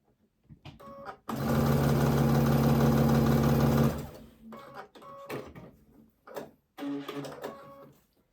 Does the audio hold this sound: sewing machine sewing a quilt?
yes